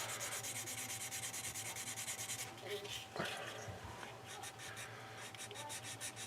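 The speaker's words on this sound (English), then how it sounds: "I'm going to sand this right away right now, because that's the main complaint with CA" Cured CA glue being sanded on a plastic 1/35 Zvezda Pantsir S1 scale model, a steady rapid rasping scrub close up, continuous back-and-forth strokes with a brief pause midway.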